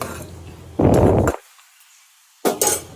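A spoon clinks in a teacup while sugar is added for milk tea made with powdered milk, a short close burst of dish clatter followed by a pause and a second brief clink.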